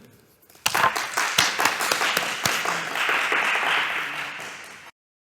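A small group claps, starting abruptly, with a few loud individual claps in a steady patter for about four seconds before stopping sharply.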